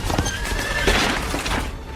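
Spooked horses in a dubbed anime neigh loudly in a shrill, wavering whinny, with clopping hooves and commotion close by.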